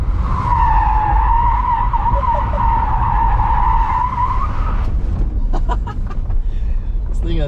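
A Tesla Model S Plaid launching hard in rear-wheel-drive mode, a loud sustained tire squeal that cuts off after several seconds, followed by rattling and thumps, with people talking over it.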